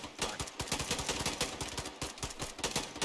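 Dense, rapid gunfire from a military shooter video game, bursts of shots cracking continuously with a few louder reports, no voices.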